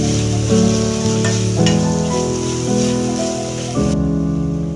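Bay leaves and ground whole-spice masala sizzle and are stirred in a hot pan for a Kolhapuri whole masoor dish, a continuous close frying hiss with the brief scrape of a spoon.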